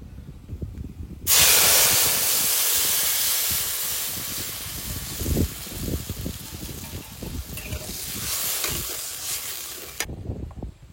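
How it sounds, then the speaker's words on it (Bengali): Tamarind water poured into hot oil with fried mustard seeds and dried red chillies sets off a loud, sudden sizzling hiss that slowly settles into bubbling crackle over several seconds, then stops. "এবার তেঁতুলের টকটা দিয়ে দেবো, আর তেঁতুলের বীজগুলো সব ফেলে দিয়েছি।"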